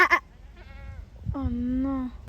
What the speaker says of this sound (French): Actuellement en train de discuter avec une chèvre